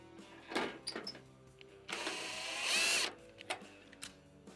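Screws driven by a power tool into a Whirlpool gas stove cooktop during burner valve repair, with short whirring bursts separated by pauses and one longer, louder run near the middle, close by.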